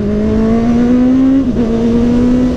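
A Kawasaki Z800e motorcycle engine hums steadily and loudly while being ridden, holding an even drone with a brief dip partway through, no voices over it.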